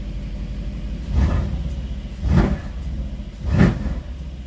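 A Mercedes GLC car engine in race mode idles with a low rumble, revving up in three short bursts spaced about a second apart, close by.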